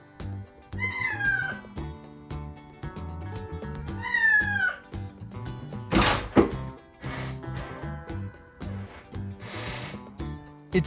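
A house cat meows in two distinct drawn-out calls, loud and close, among household knocks and a sharp thump midway, with music or background sound running throughout.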